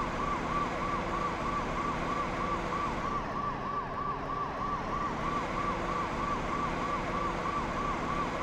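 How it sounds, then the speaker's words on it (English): Continuous wailing emergency siren from the PlayStation rescue game Rescue 24 Hours, loud and close throughout, cycling evenly up and down over a dense background of engine and ambient game noise, with no talking. "Did you hear the siren?"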